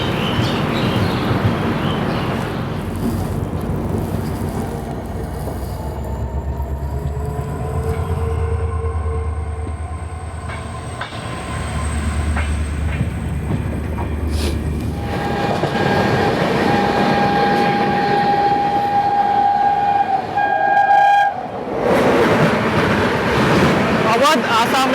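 The Avadh Assam Express rumbles past in low-visibility conditions, a loud continuous rolling roar of wheels on rails with rising whistle-like tones and someone talking over it.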